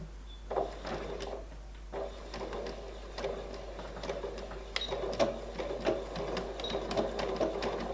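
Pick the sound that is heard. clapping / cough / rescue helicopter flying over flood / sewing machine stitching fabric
sewing machine stitching fabric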